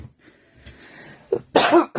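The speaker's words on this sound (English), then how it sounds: "Man, I wish this cough would go away" A single close cough bursts out after a brief throat sound, loud against a quiet background.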